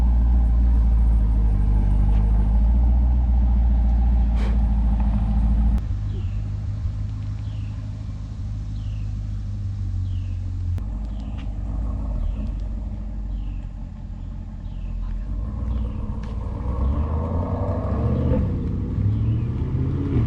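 A C8 Corvette's deep engine rumble idles close by, then drops away as it pulls off, with a revving engine rising again in the distance.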